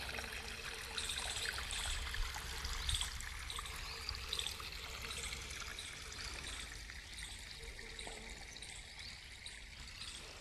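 Water runs steadily with a soft continuous trickle and gurgle, like a stream flowing into a field, with no voices.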